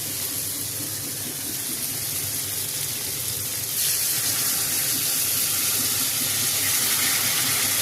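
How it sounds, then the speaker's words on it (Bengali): Hot water is poured into a simmering fish and potato curry, giving a continuous close hiss that swells louder partway through as the water hits the hot pan. "মাছ দিয়ে আলু দিয়ে সুন্দর করে কষানো হয়ে গেছে, এবার গরম জল দেবো।"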